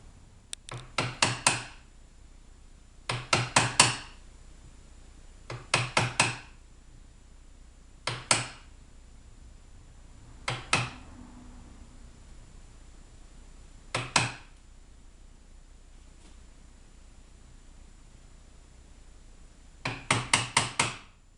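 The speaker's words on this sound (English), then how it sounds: "take the chisel and start whacking out some of this wood" Chisel hammered into wood, cutting a trigger guard inlet mortise in a longrifle stock: bursts of two to four sharp close mallet strikes with long quiet pauses, a single lone blow between some groups.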